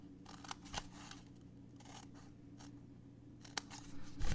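Scissors cut paper along the score lines of a Christmas shadow-box ornament, a few quiet snips spaced out over a few seconds, close but faint, with no talking.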